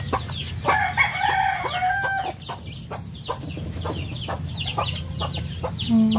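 A hen clucks among her six small chicks on a small farm, with busy high peeping from the chicks and a rooster crowing nearby, all close and fairly loud over a low background hum.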